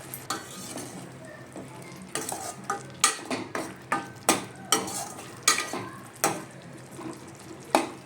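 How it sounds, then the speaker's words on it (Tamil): Prawns marinated in salt and pepper fry in a pan, a continuous sizzle broken by frequent sharp clinks and scrapes of a spatula stirring them, close and fairly loud, with no voices. "ப்ரான்ஸ் நான் போட போகிறேன்"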